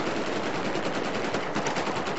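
Battlefield 4 gunfire in burst mode from a rifle fitted with a flash hider, loud and continuous rapid shots filling the whole stretch with no pauses.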